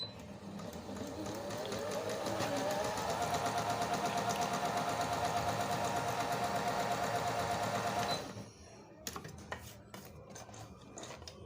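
A Singer Lady Coast 9600 sewing machine stitches a decorative design, a fast, even mechanical whir with rapid needle ticking that holds steady for about eight seconds before stopping abruptly, followed by a few light clicks and handling sounds.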